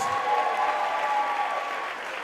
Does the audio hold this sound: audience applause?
yes